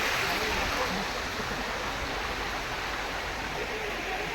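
A waterfall at the Yogi Yogiani site in Nayagarh pours in a steady, broad rushing hiss that fills the whole stretch without pause, loud and close, with no clear voice standing out above it.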